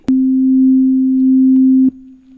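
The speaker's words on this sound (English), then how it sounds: "so that we have 2 sine waves on oscillators 1 and 2" A steady, pure sine-wave tone from a Virus TI synthesizer holds at one pitch for nearly two seconds, then drops abruptly to a quieter sustained hum.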